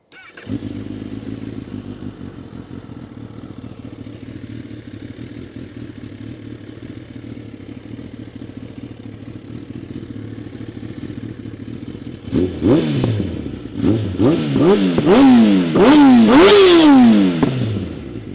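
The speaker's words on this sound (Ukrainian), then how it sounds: "Запустимо двигун." Used 2016 Kawasaki ZX-10R sport bike with 10,985 km on it, idling with a steady low rumble for about twelve seconds before a series of sharp, rising throttle blips that grow louder toward the end.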